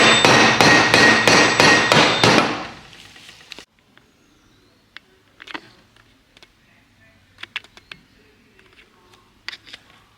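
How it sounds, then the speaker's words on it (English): Hammer blows striking the flange of a Land Rover LR3 transfer case during a rebuild, about seven sharp, loud metallic hits in quick even succession, followed by faint clicks and small handling noises. "I'm gonna hit it with a hammer on the flange and this thing's gonna pop out."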